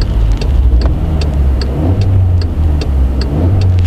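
A car engine revs during acceleration, heard from inside as a loud, steady low rumble with faint ticking above it, no talking.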